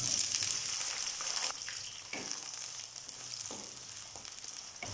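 Pieces of eggplant fry in hot oil for a yogurt gravy. The steady, close sizzle fades slightly partway through, with faint stirring clicks.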